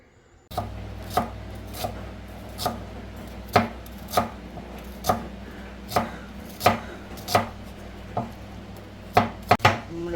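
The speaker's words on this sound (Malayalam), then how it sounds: "നമ്മുടെ ചീര വിഴുക്ക് വരുത്താൻ വേണ്ടി അരിയാണ്" Spinach being chopped with a knife on a board in a home kitchen, a series of sharp close thuds at an uneven steady pace, about fifteen strikes over quiet background.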